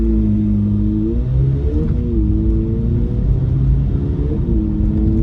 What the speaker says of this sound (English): Let's go ahead and take this Z06 out on the road for a quick test drive.